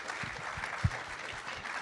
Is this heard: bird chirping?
no